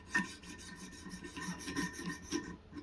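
Knife blade sharpened on a Wicked Edge Pro-Pack III stone, a close run of quick rhythmic rasping strokes, soft and without talk.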